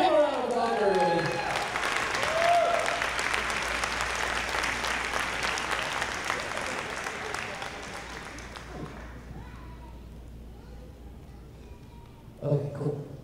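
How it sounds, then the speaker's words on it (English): During a Sunday church service with a summer kids club, the congregation applauds a mission team heading to Kenya: broad, sustained clapping with some cheering that gradually thins and fades, ending with a brief voice near the end. "Give a round of applause"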